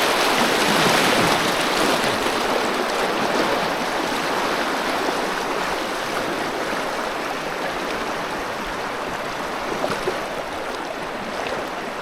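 Water rushes steadily and loudly, a continuous broad roar of fast-flowing floodwater with no voices.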